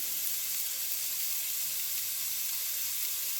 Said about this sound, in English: now I'm going to start to saute my onion and the whites of the scallions